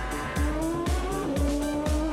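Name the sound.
Formula 1 Grand Prix car driven by David Coulthard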